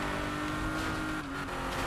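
Porsche RSR engine in Need for Speed 2015, a continuous loud, dense engine roar holding steady at high revs, no talk over it.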